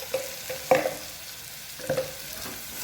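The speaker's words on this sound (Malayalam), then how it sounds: "എന്നിട്ട് നല്ലോണം ഇളക്കി കൊടുക്കാം" A spoon scrapes a few times through turmeric and spice powder in rasam cooking in a pan, soft irregular strokes over a low simmering hiss.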